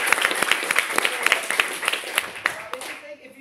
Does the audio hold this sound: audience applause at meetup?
yes